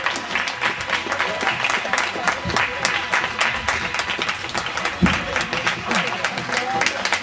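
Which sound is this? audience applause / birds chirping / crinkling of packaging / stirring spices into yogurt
audience applause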